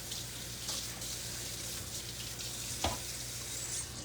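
Hot tap water runs steadily over cooked ground meat in a kitchen sink, a soft continuous hiss at low volume with one brief clatter partway through and no talking.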